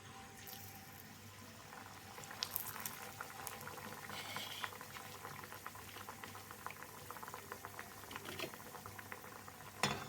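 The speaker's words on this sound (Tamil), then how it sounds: "இப்போ வந்து அதிரசத்தை ஒன்று ஒன்றா தட்டி தட்டி எண்ணெயில் போட்டுடலாம்" Adhirasam dough frying in hot oil in a kadai gives a steady, dense bubbling crackle throughout, faint and continuous, with no voices.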